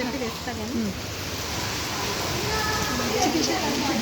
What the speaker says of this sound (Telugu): సూపర్ అసలు రాళ్ళ వర్షం.